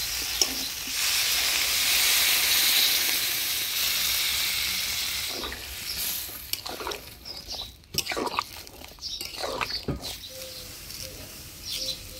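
Water poured into a hot pan of frying masala with soybean chunks and potatoes sets off a loud, broad hiss of sizzling and steam that swells for several seconds, then fades into scattered clatter of cooking utensils.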